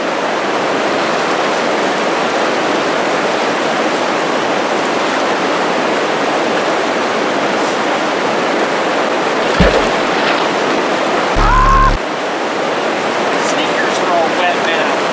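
Water is dumped out of a vacuum cleaner in a continuous loud rushing splash, with a couple of brief thuds and clunks partway through.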